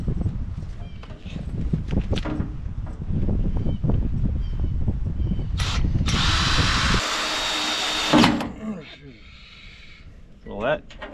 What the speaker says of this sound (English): let's go ahead and get our 2-inch hole saw all set up, and we're gonna drill a hole